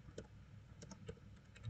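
Soft, sparse keystrokes on a computer keyboard as a command is typed, quiet irregular clicks spaced apart with no voices.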